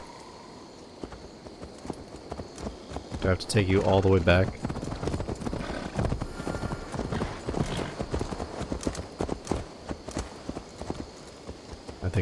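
A horse's hooves clip-clop in the Assassin's Creed Valhalla video game, a steady, close galloping rhythm that runs throughout under game music, with a brief whinny early on and someone talking over it.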